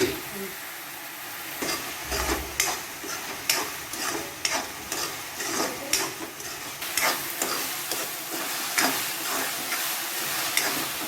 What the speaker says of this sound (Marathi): रवा भाजून घेतलं.